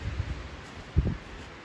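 Wind gusts through the woods of Tucker County, West Virginia, as a brief, steady rushing and rustling with a short louder puff near the middle.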